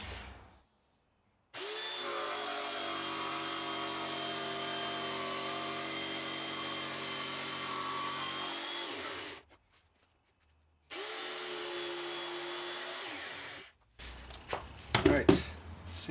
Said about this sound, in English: we're going to cut this out using a jigsaw.